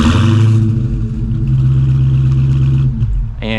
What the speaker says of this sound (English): the dual exhaust, which we can fire up and listen to